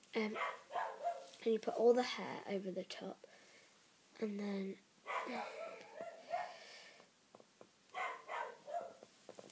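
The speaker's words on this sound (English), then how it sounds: "Sorry about my dog, by the way." A house dog barks somewhere indoors in a few short bursts, partly buried under a person's steady nearby talking.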